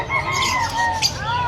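Turkey calling amid poultry at an outdoor pet market, several quick warbling, gobbling calls in a short burst, fairly close, over busy market background noise.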